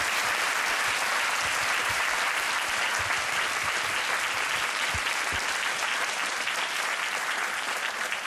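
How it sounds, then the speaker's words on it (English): An audience applauds after a Q&A session at a university lecture at the Hong Kong University of Science and Technology, a sustained, even wash of many hands clapping with a faint voice in the background. "let's give them a round of applause"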